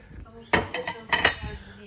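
Several sharp clinks of plates knocking together, a couple near and distinct, in quick irregular succession with a voice faintly underneath.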